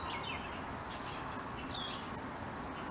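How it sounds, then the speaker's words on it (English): Birds chirp and tweet repeatedly in short bright calls at a moderate distance over a steady soft background wash, with no talking. "I'm hearing so many birds."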